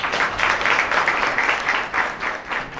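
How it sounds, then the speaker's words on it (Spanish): A crowd applauds warmly and steadily at an outdoor breast cancer awareness walk event in Sosúa, the dense clapping holding at an even level for about three seconds. "un fuerte aplauso para Clarisa Rochet."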